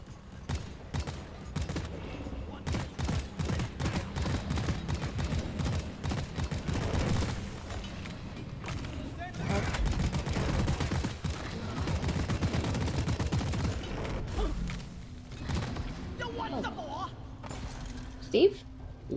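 Turrets in the video game Deep Rock Galactic fire in long, rapid automatic bursts, loud and continuous for most of the stretch, while several players talk over the shooting.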